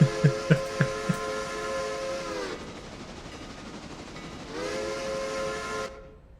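A passenger locomotive's steam whistle in the Railroader train simulation game sounds two long, steady blasts separated by a pause, with a few short chuffs at the start and a hissing fade at the end.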